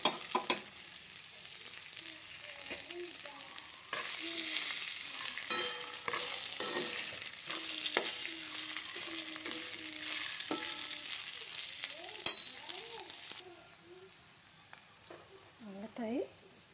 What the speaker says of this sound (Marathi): आता त्यामध्ये आपण भिजवलेला साबुदाणा परतून घेऊया।